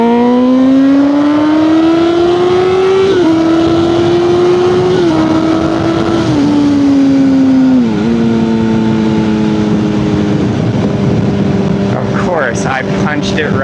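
A Honda CBR sport motorcycle accelerates hard on a Colorado road, its engine note climbing steadily through several gear shifts, loud and close throughout, with wind buffeting toward the end.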